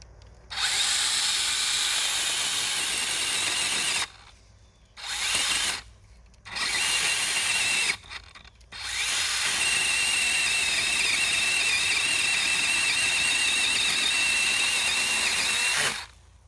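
A DeWALT 20V XR brushless 8-inch pole saw cutting through a thick branch, a loud, close, high-pitched chainsaw whine running in several bursts with short gaps, then one long sustained cut.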